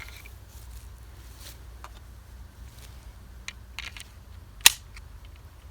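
A single sharp, loud pistol shot from a SCCY CPX-2 cracks out once over quiet outdoor background noise, with faint scattered ticks and rustles before it.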